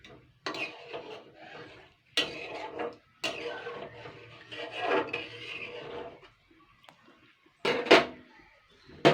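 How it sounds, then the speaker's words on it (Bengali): Chana dal (split chickpea) batter being stirred in a bowl, giving several bursts of scraping and rasping from a close utensil, separated by short pauses, with no talk. "এরপরে আমি এটাকে একটু নাড়াচাড়া করে নেব"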